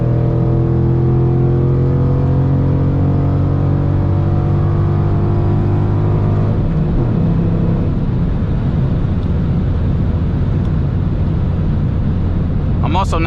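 Ford Mustang GT with an aftermarket exhaust, heard from inside while driving: a loud, steady low engine drone with harmonic tones that shifts pitch partway through, with brief louder noise near the end.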